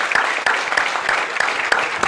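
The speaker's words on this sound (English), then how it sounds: "We're clapping for them right now here on Memorial Day." A crowd at a high school softball tournament applauds veterans on Memorial Day, steady rhythmic clapping with sharper individual claps standing out, close and fairly loud.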